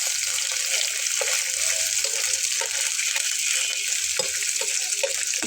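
Prawns holding water spit and splatter as they fry in hot oil while making a borboti bhorta, a steady close sizzle with scattered sharper pops and crackles throughout.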